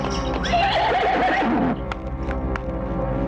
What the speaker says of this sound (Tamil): குதிரை கிடைக்கிற சத்தம் கேக்கலீங்களா?